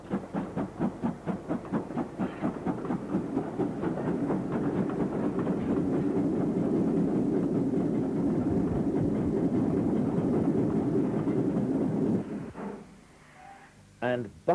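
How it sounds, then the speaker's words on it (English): Castle-class steam locomotive No. 5070 Sir Daniel Gooch hauling a freight train in the 1950s–60s: rhythmic exhaust beats settle into a loud, steady rumbling roar, which drops away sharply near the end, followed by a few brief clanks. "we see Castle-class locomotive number 5070, Sir Daniel Gooch, on this freight working"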